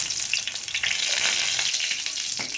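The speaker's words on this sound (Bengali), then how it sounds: "সামান্য গোটা জিরে ফোড়ন দেব" Whole cumin seeds crackle in hot oil in a kadai with a close, dense, continuous sizzle that holds steady throughout.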